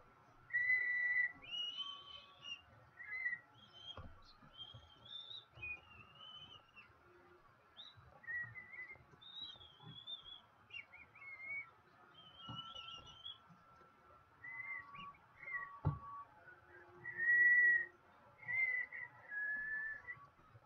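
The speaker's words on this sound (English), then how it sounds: "Can't whistle pitches though." A person whistles a series of short, high, wavering notes in a quiet setting, spaced irregularly with brief pauses between phrases.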